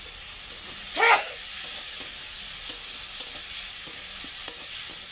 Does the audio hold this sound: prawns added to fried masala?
yes